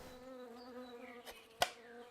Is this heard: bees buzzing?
yes